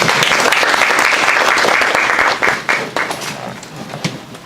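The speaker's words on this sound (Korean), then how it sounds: "김지현 교수님께 여러분 박수 부탁드립니다." Loud audience applause at an internet and AI club talk, a dense burst of clapping that gradually thins and fades over the final seconds.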